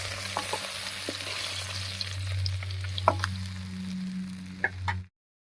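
Pabda fish frying in hot oil in a pan, a soft continuous sizzle with scattered pops and light clinks of a spatula, fairly quiet and close, ending abruptly.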